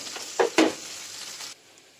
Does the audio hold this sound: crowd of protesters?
no